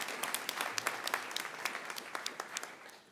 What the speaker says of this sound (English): an applause to everyone who has made an intervention